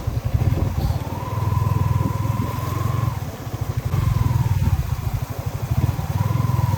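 A motorcycle engine running close by with a throbbing, uneven rumble that rises and falls as it revs, sometimes with a higher whine.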